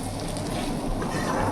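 Fried small fish tumble into a pan of bitter gourd and potato, setting off a steady close sizzle with faint stirring scrapes and no voices.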